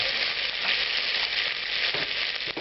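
Oil poured into a very hot, smoking pan for a Spanish bravas sauce hisses and sizzles steadily and loudly, with a few soft crackles and no talking.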